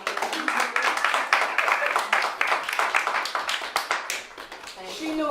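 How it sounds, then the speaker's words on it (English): Applause from a crowd at a literary reading event, a dense patter of many hands clapping steadily before tapering off near the end. "everybody give a round of applause"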